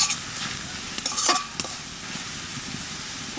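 Onions and spices fry in a pan, giving a close crackling sizzle with a few bright scraping stirs and clinks near the middle, no talking.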